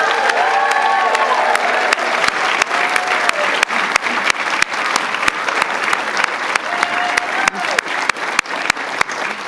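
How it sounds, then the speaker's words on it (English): Audience applause at a university doctoral nursing hooding ceremony, sustained clapping from a large crowd that carries on steadily for several seconds with scattered cheers. "let's give them all another round of applause"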